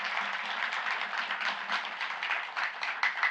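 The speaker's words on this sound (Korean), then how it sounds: "우리 주일학교 초등부 아이들을 위해서 우리 박수 한번 쳐줍시다." A church congregation at a Friday night prayer meeting applauds for the Sunday school elementary children, a steady, moderately distant round of many hands clapping with no voices over it.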